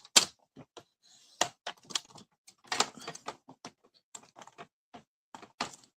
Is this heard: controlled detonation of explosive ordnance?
no